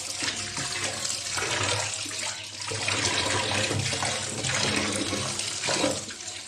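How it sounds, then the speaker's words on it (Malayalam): Running water pours steadily from a tap over a whole raw chicken being washed and cleaned of fat, a continuous close splashing flow with no talk. "ഇനി അത് നമുക്ക് കഴുകി വൃത്തിയാക്കാം"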